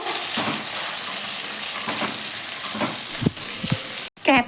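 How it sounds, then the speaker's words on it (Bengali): Capsicum and chopped onion fry in mustard oil in a wok with a steady, close hiss of sizzling, broken by a few soft spatula stirs and a sharper clatter near the end, with no voices. "ক্যাপসিকাম আর পেঁয়াজগুলো আগে ভেজে তুলে রাখবো"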